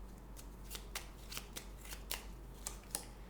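Tarot cards are shuffled close up, giving a run of quick crisp riffling bursts at an irregular rhythm, quiet and alone over a low steady hum.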